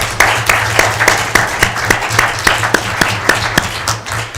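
A municipal council meeting room breaks into applause, a short burst of many hands clapping at a quick, fairly even rhythm over a low steady hum, fading toward the end with no talk.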